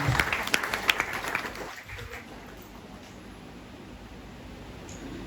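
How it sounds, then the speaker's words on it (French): Church congregation applauding a testimony, a brief round of clapping that fades out after about two seconds into quiet room tone. "Je voudrais que vous acclamez pour ce témoignage"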